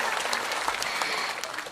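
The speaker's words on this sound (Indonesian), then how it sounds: "Tepuk tangan dulu dong" Audience at a lively Islamic preaching gathering in a village in Cibadak breaks into dense, steady applause, loud and continuous before thinning slightly at the end.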